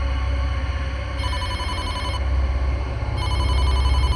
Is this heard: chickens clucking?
no